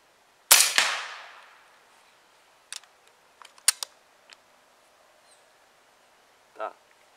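One loud, crisp PCP air rifle shot at medium power snaps out, followed by a scattering of metallic clicks and light handling noises.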